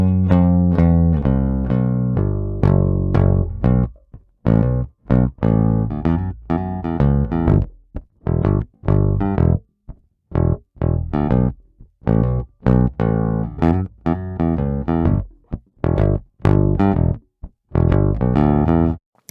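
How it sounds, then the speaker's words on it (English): A Fender Vintera P bass plays a run of funky, plucked grooves, its notes punchy and percussive with short gaps between phrases, heard up close and alone without any voices. "This is my Vintera P bass that I still have out on a rental agreement. And these are some of the grooves that I've milked out of this thing."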